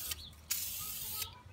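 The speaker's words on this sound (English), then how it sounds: "always start spraying before and finish after your product" A spray paint can fires in two short bursts, a bright sharp hiss of roughly a third of a second and then about three quarters of a second, with quiet gaps around them.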